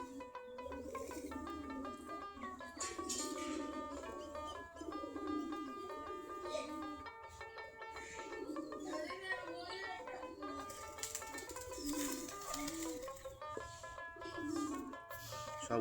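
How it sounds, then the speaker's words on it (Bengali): Desi Giribaj pigeons coo softly at their loft on a cold winter morning, low rolling coos repeating in a loose rhythm with scattered chirps from other birds, faint and steady beneath a background tone. "সবগুলা দেশি গিরিবাজ কবুতর।"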